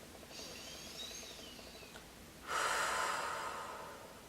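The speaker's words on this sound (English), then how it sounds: "Take a deep breath." A slow, deep inhalation followed by a louder exhalation, close and alone, taken during an EFT tapping session about fear of driving.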